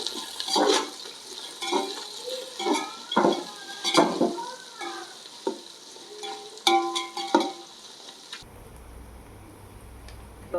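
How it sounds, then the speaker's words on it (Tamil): Three-quarters of a kilo of onions sautéed and stirred in a pan for ghee rice, rhythmic scraping stirs over a moist sizzle, then a sudden drop to a quieter hiss. "நல்லா வதக்கிடுவோம்."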